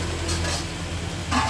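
Pad Thai frying and stirring on a hot pan at a Bangkok street food stall, a steady broad sizzle with scraping of a utensil, louder bursts near the end, close and continuous with no talk.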